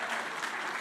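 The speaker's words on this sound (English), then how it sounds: "give it a round of applause" A conference audience gives a round of applause, a dense, even wash of many hands clapping together, steady and continuous with no voices over it.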